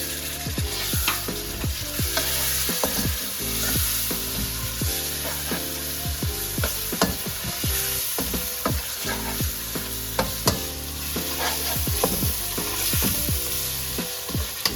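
Tomatoes, green chillies and fresh coriander fry in a pan as the base for a rohu fish curry, a constant sizzle broken by frequent sharp scraping stirs throughout.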